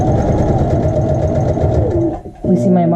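A sewing machine runs an edge stitch along a child's shorts pocket, whirring steadily and close for about two seconds before a brief stop and restart.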